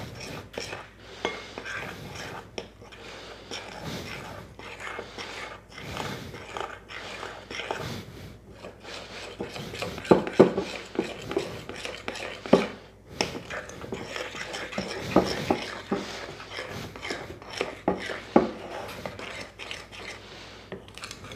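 Yogurt cake batter is stirred in a bowl with a utensil, giving soft, irregular scraping and clinking taps under quiet room noise and occasional talk.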